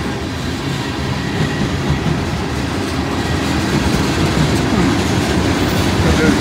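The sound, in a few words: train with caboose passing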